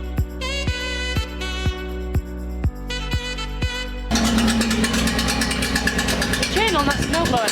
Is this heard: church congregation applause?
no